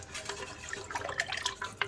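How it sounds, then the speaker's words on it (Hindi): Water pours into a cooking pot for a mutton and chicken dish, a steady splashing, gurgling stream close by with small clinks of the pot, no talking. "अब मैंने पानी डाला है"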